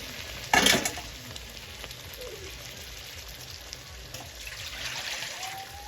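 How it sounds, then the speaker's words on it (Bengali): Spiced water poured into frying mutton in a pan, a short loud splash and hiss followed by a steady close sizzle, with no talk. "এবারে যে মশলা দেওয়ার জলটা আছে আমি দিয়ে দেবো।"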